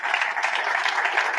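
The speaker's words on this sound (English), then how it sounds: "I would like to ask for a very big round of applause for Nico and the whole team" Audience applause at an AI Barometer report release event, a brief continuous wash of many hands clapping at a steady, fairly loud level.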